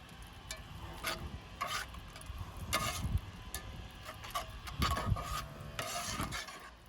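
Eggs with torn Munster cheese scrambled in a frying pan, a steady soft sizzle under repeated scraping and stirring strokes from a utensil, close and continuous with no talking.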